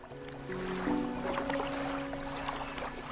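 A boat engine hums steadily at a low pitch, with a tonal drone that shifts slightly, heard up close over faint water and background noise.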